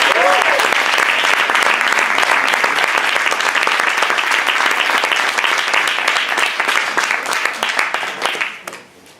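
An audience welcomes author T.A. Barron with loud, sustained applause that fills the room for about eight seconds, then tapers off quickly at the end.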